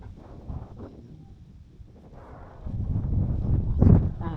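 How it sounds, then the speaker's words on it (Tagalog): Strong wind buffets the microphone in gusts, building louder toward the end with heavy low rumble; a voice is briefly heard. "Lakas ng hangin ngayon."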